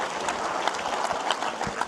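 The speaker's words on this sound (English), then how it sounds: "Let's get another round of applause for Justice Chandler, everybody" Audience applause at a liberty award event celebrating crypto and Ron Paul, a dense, close wash of clapping lasting throughout, with no speech over it.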